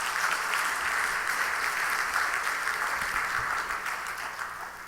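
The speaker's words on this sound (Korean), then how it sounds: "우리 교사들과 우리 교회 학교에 우리 박수 한번 하십시다." A church congregation claps during a Sunday evening worship service, with dense, steady applause that stays loud for several seconds and tapers slightly at the end.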